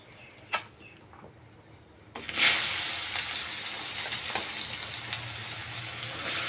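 After a quiet moment and a light tap, onions hit hot oil with a sudden loud sizzle that continues as a steady frying hiss.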